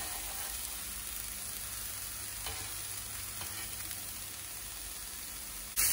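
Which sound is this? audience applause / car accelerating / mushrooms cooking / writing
mushrooms cooking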